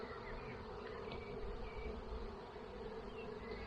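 Bee swarm buzzing steadily outdoors at a home in Bendigo, a dense continuous hum from many insects with no breaks, moderately quiet and even throughout, with no voices.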